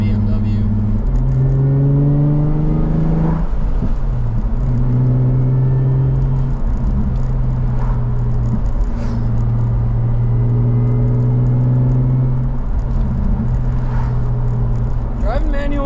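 Nissan 350Z with a manual gearbox driving along, its engine revving and dropping through gear changes in a loud, steady drone with rising pitch sweeps, heard from inside the car.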